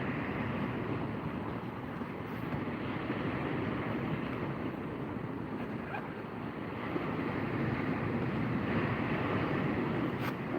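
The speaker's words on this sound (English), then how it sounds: "a bit of wind puffing through" Wind puffing across the water at a coastal shore-fishing spot for bass, a steady broadband rush with gentle swells of surf and microphone buffeting, continuous and fairly soft with no voices.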